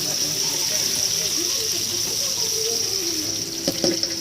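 Chopped onions frying in hot oil with mustard seeds and cumin for a rock fish curry give a steady, close hiss of sizzling, with a brief utensil clatter near the end.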